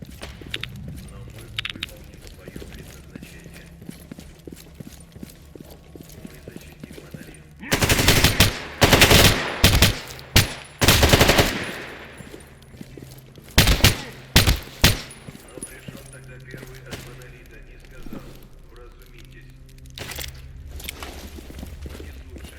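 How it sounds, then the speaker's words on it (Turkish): Heavy gunfire in the video game Radiophobia 3, including sniper rifle shots: loud bursts of close, sharp reports in rapid clusters, separated by quieter stretches of low background ambience. "yerden daha keskin nişancı atışı yiyoruz"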